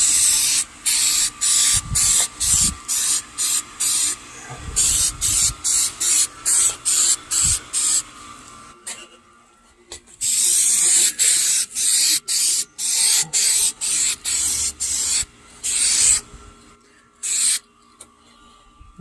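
A spray paint can hisses in a long series of short bursts with brief gaps between them, close up and loud, painting the engine bay of a Honda Civic, with a longer pause midway before the bursts resume.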